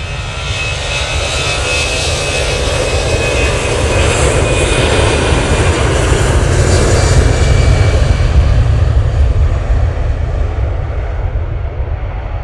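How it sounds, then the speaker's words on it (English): An EasyJet airliner's jet engines roar steadily through its takeoff roll at Manchester Airport, a loud, continuous broadband rumble that swells slightly midway and holds throughout. "EasyJet now on the roll."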